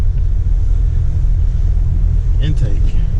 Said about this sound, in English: Pretty sure it's gonna be the sound from the exhaust downpipe.